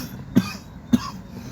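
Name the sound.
person coughing from dry throat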